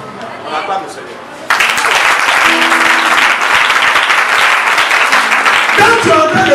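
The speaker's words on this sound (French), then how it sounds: "On acclame le Seigneur." A church congregation bursts into loud, sustained applause and acclamation for the Lord, following a brief stretch of amplified speech, with voices calling out over the clapping.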